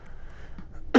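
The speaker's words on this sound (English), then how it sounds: "Why am I coughing?" A single short, forceful cough bursts out at the very end after near silence, close and loud.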